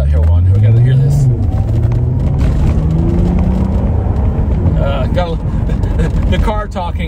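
A 2004 Audi TT Quattro roadster with a 250 hp 3.2-litre VR6 engine drones steadily while driving, its revs rising and then settling into a continuous rumble, heard from inside the car amid road noise.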